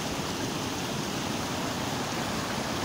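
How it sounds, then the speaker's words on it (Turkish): Aygır Waterfall at Bozkurt Karacahisar pours in a steady, loud, dense rush of falling water, close and unbroken throughout, with no voices over it. "Bu sefer Bozkurt Karacahisar Aygır Şelalesi'ndeyim."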